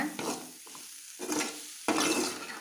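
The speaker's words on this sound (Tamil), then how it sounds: "ஒரு 2 நிமிஷம் இந்த மசாலாவோட கொஞ்சம் பச்சை ஸ்மெல் போகிற அளவுக்கு லைட்டாக இப்படி வணக்கி விடுங்க." Masala being stirred and sautéed in a pan for pearl millet noodles, with three bursts of scraping, sizzling stirring separated by brief pauses, close and fairly loud, no talk.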